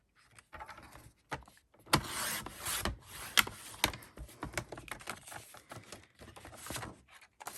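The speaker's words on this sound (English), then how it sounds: "The first thing I'm going to do is cut my sheet of DSP" A sheet of designer series paper being cut on a paper trimmer: quiet, close scraping and sliding strokes with a few sharper clicks, and no talk.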